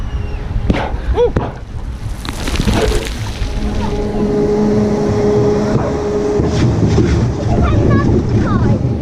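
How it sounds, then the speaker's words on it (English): A log flume boat glides around a small water ride at Wicksteed Park, soft sloshing and splashing under steady wind noise on the microphone, with a person talking and exclaiming over it. "It's a nice tranquil ride around this little log flume"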